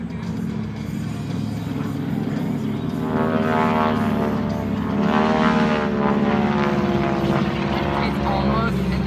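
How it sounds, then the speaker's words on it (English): A small propeller plane flies low overhead above a beach, its engine drone loud and steady, swelling slightly toward the middle as it passes; people can be heard talking beneath it. "It's almost enough to vie with this plane that's going over, like, just above our heads."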